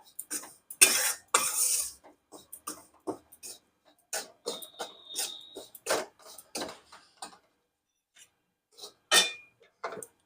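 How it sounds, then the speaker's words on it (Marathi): A spoon stirs grated dried coconut as it roasts in a pan for coconut barfi, giving quiet, intermittent scrapes and light metallic clinks separated by short pauses. "खोबऱ्याचा किस भाजून घेतला थोडा रंग बदलला"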